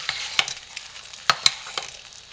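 A pot of 100% olive oil castile soap cooks from scratch, giving off a soft, steady sizzle broken by several sharp little pops. It stays fairly quiet and close up.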